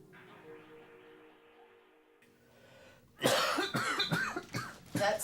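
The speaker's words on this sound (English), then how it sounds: "That's some cough" A few loud, harsh coughs from a person with HIV burst out after a quiet stretch of low background hum, coming close together in quick, rough fits.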